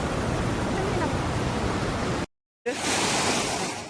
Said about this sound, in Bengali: সামনে জল দেখুন জলের আওয়াজ শুনুন